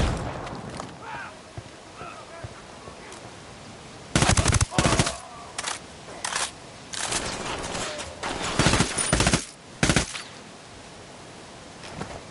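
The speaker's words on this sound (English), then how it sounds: "Throwing a flashbang." Flashbang grenade and gunfire in the video game Ghost Recon Wildlands: a series of sharp, loud bursts and rapid bangs clustered mid-clip over a faint ambient background.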